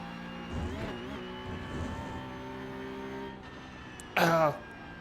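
A racing car engine in the iRacing video game hums steadily in the background, with a couple of soft surges and a brief, louder, harsh burst near the end.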